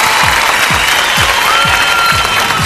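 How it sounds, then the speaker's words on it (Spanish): A studio audience at a Factor X Chile gala applauds loudly and continuously, a thick wall of clapping with crowd voices mixed in. "Un aplauso para Jennifer López,"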